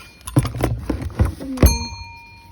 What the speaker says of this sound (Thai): กริ่งนะคะกริ่งจักรยานนะคะ